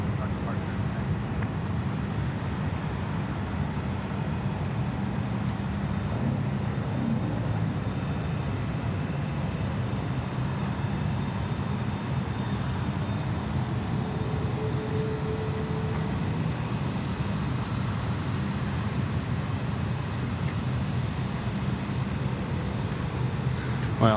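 An Emirates jet takes off on runway 34 left at Sydney Airport, a powerful, continuous roar that holds steady and unbroken for a long stretch, with voices talking underneath.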